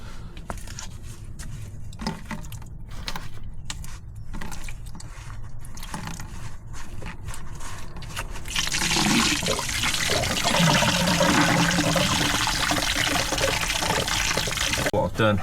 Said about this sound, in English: I'm going to drain the coolant off. I'm just going to take this clip off here and then just let it drain out into this bucket.